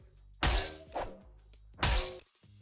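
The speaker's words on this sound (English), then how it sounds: "Spectral Axe. It's a little sound test." A Spectral Axe pickaxe from Fortnite swings twice, each a loud, bright shattering crash with a glassy ringing tail, separated by about a second and a half of quiet.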